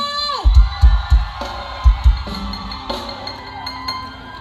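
A crowd cheers and shouts in bursts, with loud thumping hits and whoops rising over a noisy, echoing backdrop.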